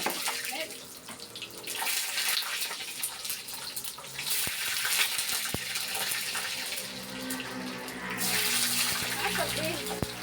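Eggplant slices drop into hot frying oil in a home kitchen, a steady loud hiss and bubbling rush with a few sharp clatters, while someone talks over it.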